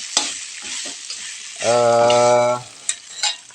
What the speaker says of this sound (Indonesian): masukkan daging kancilnya, baru kita aduk merata